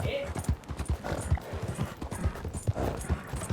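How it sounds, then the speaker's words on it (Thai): Horse hooves clip-clop in a video game with a brisk, steady rhythm of close hoofbeats. A voice talks over them throughout. "ทำไมม้าไม่ไป"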